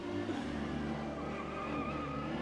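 Tires skid continuously with engine noise beneath, a dense, steady screech and rumble with no clear impact, sounding like a car crash scene in a game or film.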